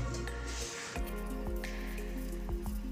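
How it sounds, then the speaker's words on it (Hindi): Millet flour dough kneaded with water by hand makes soft, wet squishes and slaps, several close, irregular squelches over about three seconds with a faint electrical hum underneath. "अब इसमें थोड़ा थोड़ा पानी डाल के इसे अच्छी तरह से गूंथ लेंगे"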